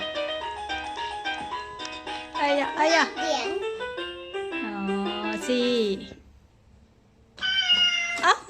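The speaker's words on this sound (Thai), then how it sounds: "แมวร้องอีกแล้ว" A cat meows repeatedly in drawn-out, wavering cries over a tinkling electronic toy melody, with a voice mixed in.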